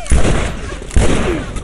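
Two heavy bursts of gunfire from the video game The Last of Us boom loudly and close, each followed by a rumbling, crackling tail.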